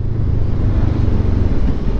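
A Benelli TRK 702 motorcycle ridden hard gives a loud, steady, low engine roar close by, with no talking.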